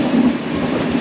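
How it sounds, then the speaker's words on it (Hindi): The Avadh Assam Express, running from Dibrugarh, rolls into Simalguri Junction with a loud, steady rumble and a continuous low drone of rail noise. "और ये आ रही है भाई अवध असम एक्सप्रेस, जो कि आज सुबह मॉर्निंग में चली थी डिब्रूगढ़ से और फिलहाल पहुंची है सिमलगुड़ी जंक्शन में।"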